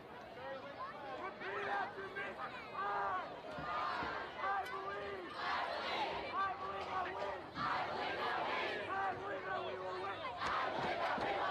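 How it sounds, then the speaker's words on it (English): Crowd at a high school varsity football game between the Westerly Bulldogs and Cranston East Thunderbolts roars and cheers continuously, a loud dense mass of shouting voices filling the whole stretch without letup. "And the crowd is going crazy."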